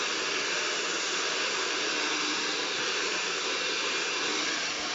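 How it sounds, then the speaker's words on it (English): A hairdryer blowing steadily on hair during a round-brush blow-dry, a close, loud, even airy roar with no break and no talk. "The hairdryer is above the brush, coming down the length of the hair"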